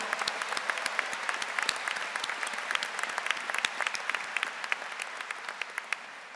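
Audience applause at a Virginia Commonwealth University commencement, a steady dense patter of many hands clapping throughout, fairly distant and even, with no voices over it.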